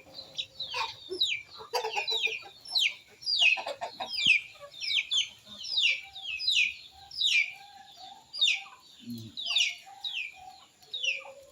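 Pet chickens cluck repeatedly in a steady, close rhythm of short bursts while being fed rice, with a quiet voice briefly audible in the background.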